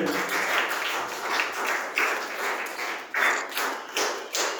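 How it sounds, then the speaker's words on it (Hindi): Audience clapping at a school in-house training ceremony while a guest is honoured with a bouquet, a steady rolling patter of many hands with surges, moderately close in an indoor hall, no voices over it. "तालियां बजती रहे।"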